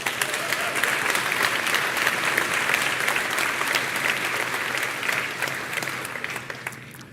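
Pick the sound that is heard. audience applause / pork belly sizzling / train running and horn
audience applause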